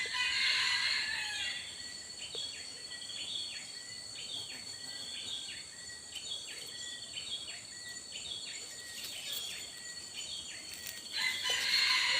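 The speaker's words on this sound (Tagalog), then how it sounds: "nagpuputak yung ligaw" A wild junglefowl rooster calls outdoors with a run of repeated clucking notes over steady insect and cricket drone, fairly faint and unaccompanied by talk, louder at the start and end.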